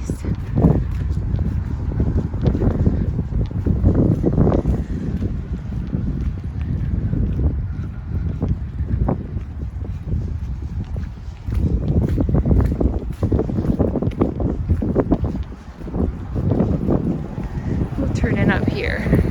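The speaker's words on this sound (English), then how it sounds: "I'm gonna wait till the wind is maybe not in our face." Heavy wind buffets the microphone on a walk through Winnipeg's Old Tuxedo and Assiniboine Park area, a loud, continuous low rumble with gusty surges and brief dips, and footsteps are faint beneath it.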